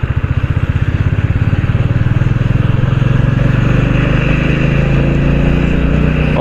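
Royal Enfield Bullet motorcycle riding on a road, its single-cylinder engine thumping in a steady, loud, close pulse that smooths into a continuous drone as speed builds.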